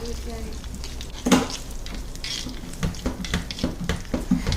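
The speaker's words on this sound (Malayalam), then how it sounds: "അപ്പോൾ ഒരു 2 മിനിറ്റോളം നന്നായിട്ട് ഇത് റോസ്റ്റ് ചെയ്തെടുക്കാം." Chopped onion and ginger sizzling and being stirred in a hot pan, a steady close fry with scraping spatula strokes and light clinks against the pan, no talking.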